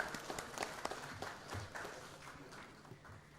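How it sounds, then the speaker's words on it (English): Scattered applause from an awards ceremony audience, quiet and distant, with a few sharper claps standing out over a low hum of room noise. "Round of applause, please, ladies and gentlemen."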